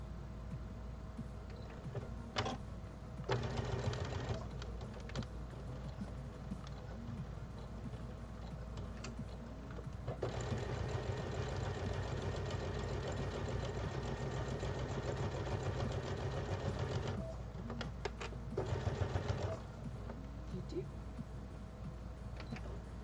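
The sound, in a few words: sewing machine stitching a fabric mask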